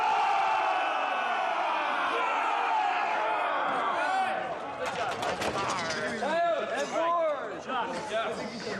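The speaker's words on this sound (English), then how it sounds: "And when they lift the swords, we're all going to cheer." Film crew and extras on the set of Transformers: The Last Knight raise a loud, rousing cheer and battle-cry roar, which then breaks into scattered shouts and whoops.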